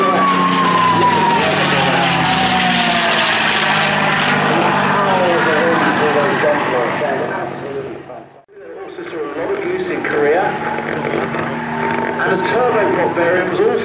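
A P-51D Mustang propeller fighter flies low past, its loud engine drone shifting in pitch as it passes, dipping briefly, then returning slightly fainter as the aircraft moves off.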